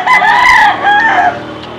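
A rooster crows loudly and close by in a Tondo street-food setting, the long harmonic call rising then trailing off, followed by a second shorter crow fading out over roughly two seconds, with no talking.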